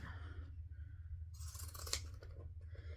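Zigzag pinking scissors snip through excess sewing pattern paper in a quiet room, a short, crisp run of close-up cutting crunches near the middle, with no talking.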